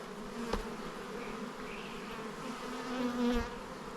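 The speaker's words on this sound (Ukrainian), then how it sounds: "Тікайте бджоли." Bees buzzing around a beehive, a soft steady drone close by with a few louder passes as individual bees fly near, no talk.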